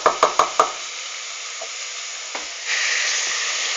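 Carrots sautéing in butter or margarine for lentil soup, opening with four quick sharp knocks of a utensil against the pan, then a soft sizzle that swells into a louder, steady hiss near the end.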